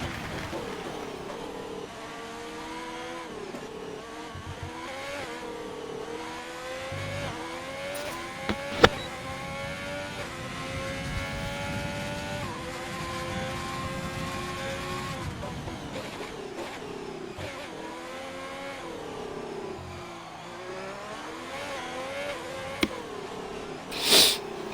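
A race car engine in a racing video game on an out lap on soft tires, droning and revving continuously with shifting pitch, heard fairly quietly throughout with occasional short clicks.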